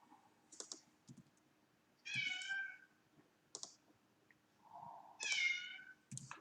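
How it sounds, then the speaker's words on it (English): A pet cat meows twice, distinct plaintive cries a few seconds apart, faint in a quiet room, with soft computer keyboard typing and clicks around them. "Why are you whining so much, cat?"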